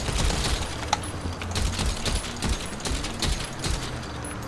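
Gunfire striking an armored Mobile Operations Center vehicle in GTA 5 Online, a steady run of sharp repeated impacts in quick rhythm, fairly loud, with no talk.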